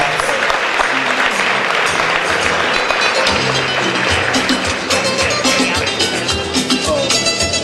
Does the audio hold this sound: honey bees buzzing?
no